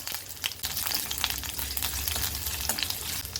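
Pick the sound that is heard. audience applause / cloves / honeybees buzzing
cloves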